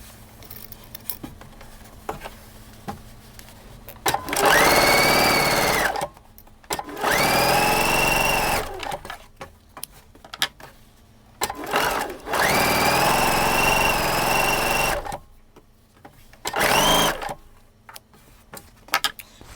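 A sewing machine stitches quilt block seams for flying geese blocks, running in several sustained bursts of a few seconds each with short pauses between, close and fairly loud.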